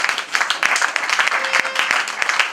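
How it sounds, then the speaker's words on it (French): Wedding guests applauding at a civil ceremony, a modest cluster of claps from a small group, uneven and close, with individual hand strikes distinct through the short burst. "Applaudissez un peu pour moi."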